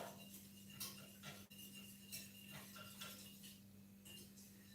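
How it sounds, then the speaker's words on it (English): Pumpkin puree being stirred into milk warming in a pan over medium heat: a utensil scrapes and clinks against the pan in an irregular rhythm over a faint steady hum, with a brief knock partway through. "I'm just going to stir and warm up the milk"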